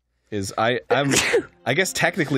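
A single sharp sneeze bursts out in the middle of casual talk between gamers, loud and close, with speech continuing right before and after it.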